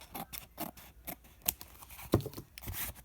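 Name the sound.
scissors trimming craft box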